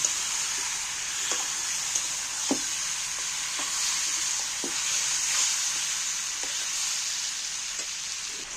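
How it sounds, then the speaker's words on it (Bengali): Chicken pieces fry in hot oil in a home kitchen, a continuous close, bright sizzle broken by occasional soft knocks from stirring, with no talk. "এইবার মাংসটা আমি ওই ফুটো তেলের মধ্যে নেমে নেব একটু ভাজা ভাজা করব"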